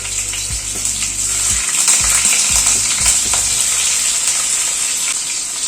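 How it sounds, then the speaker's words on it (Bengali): Paneer pieces fry in hot white oil, giving a steady, loud sizzle with bursts of spatter and a few low knocks at the start, with no talking. "এখানে পনিরটাকে প্রথমে একটু ভেজে নিচ্ছি।"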